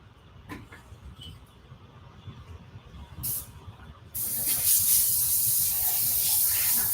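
Airbrush spraying thinned paint at high pressure, a steady loud hiss that starts abruptly after a few short bursts and low background noise, with no talk.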